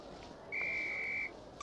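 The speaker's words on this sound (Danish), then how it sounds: "Når min fløjte lyder." A referee's whistle from the Quidditch flying practice in the PS1 game Harry Potter and the Philosopher's Stone: one clear, steady high blast lasting under a second over quiet background.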